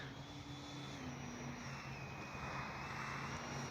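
A Freewing F/A-18C 90mm electric ducted-fan RC jet in Blue Angels livery cruises in flight, a steady, faint whine with a slowly shifting tone and no talk over it.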